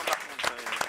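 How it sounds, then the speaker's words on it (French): Studio audience applause on a French TV talk show, a brief burst of dense clapping with a few louder peaks, fairly faint and distant. "On vous applaudit, Amandine."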